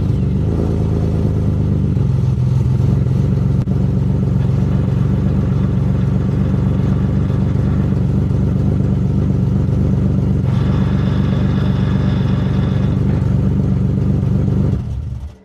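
A Chevrolet Corvette C7 Z06 V8, with a suspected driveshaft fault, settles into a loud, steady idle after starting, with a brief rev around the middle, running alone until it cuts off at the end.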